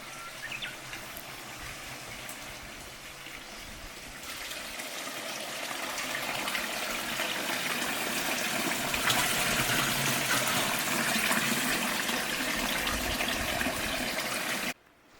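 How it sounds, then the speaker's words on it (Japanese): Water flowing steadily at a water-drawing spot in a Nagano post town, a soft continuous gush growing louder over several seconds before cutting off abruptly. "おっと、水の音が聞こえてまいりました。"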